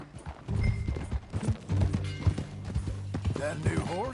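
Horse hooves clip-clop steadily in Red Dead Redemption 2 as riders set off at a trot, a close rhythmic beat under the game's characters talking.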